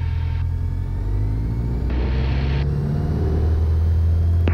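A Mooney M20J light aircraft roars steadily on its takeoff run from runway 21 at Davenport, a loud, continuous piston-engine drone heard from inside the cockpit.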